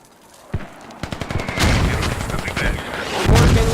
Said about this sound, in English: Mortars getting launched around here.